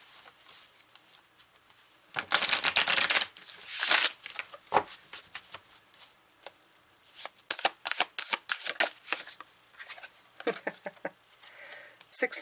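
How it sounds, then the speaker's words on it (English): Ink Tattoo Tarot cards are shuffled and pulled from the deck, starting with a loud riffling burst, then a run of sharp, close card snaps and slides of varying strength. "I'm going to pull the first 4 cards. This is the Ink Tattoo Tarot."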